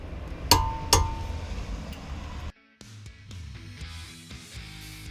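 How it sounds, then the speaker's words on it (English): A torque wrench on an 18mm socket tightens a brake bolt on a Mercedes, giving two sharp metallic clicks close together, followed by quieter clinks and handling noise. "using the 18mm socket, I'm going to do the final torquing, starting with the top bolt until it clicks"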